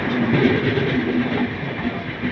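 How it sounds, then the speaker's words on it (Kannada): A superfast express train rumbles along the rails in a loud, steady roar with faint rhythmic clatter, heard up close from on board, no talking. "ಸೊ ಒಂದೇ ಭಾರತ ನಿಲ್ಲಿಸಿ ನಮ್ಮ ಟ್ರೈನ್ ಕಳಿಸ್ತಿದ್ದಾರೆ ಓವರ್ಟೇಕ್."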